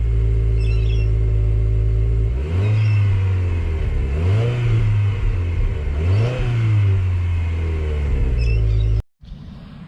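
2022 Subaru WRX engine and droning exhaust while driving, a steady low drone that swells into several rhythmic revving rises and falls, loud and close, with no talking.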